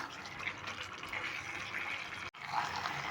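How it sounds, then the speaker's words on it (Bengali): Water pours steadily into a pan of cooked-down masala for Kashmiri aloo dum, a soft continuous splashing fill with one brief break near the end. "এবার এই সময় আমি জল দিয়ে দেবো জল দিয়ে দিচ্ছি"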